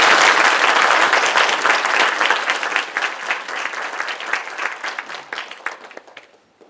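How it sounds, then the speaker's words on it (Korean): A large audience at a Korean-language speaker-series talk applauds a pastor, a dense, steady wash of clapping that holds strong and then gradually thins and fades out over several seconds. "여러분 우선 이면수 목사님께 큰 박수 부탁드립니다"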